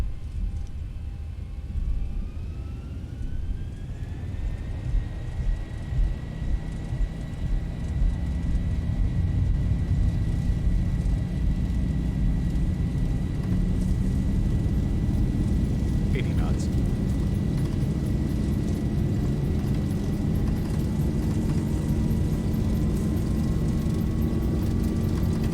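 A Zibo mod airliner rolls down runway 22 for takeoff in a flight simulator, its engine roar steadily building into a loud sustained drone with rising whine, and a voice calls out briefly over it.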